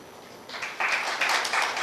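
An audience in Ahmedabad applauds a speech. Applause swells from quiet into a steady, moderately loud wash of clapping that continues without speech.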